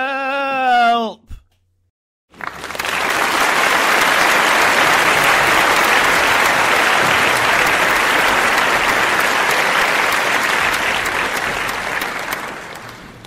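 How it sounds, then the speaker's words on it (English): Loud, sustained audience applause fills the room after a Year 6 child's winning ghost story reading, following a brief spoken bit and a short pause, then steady clapping that slowly eases. "That's very well deserved applause indeed."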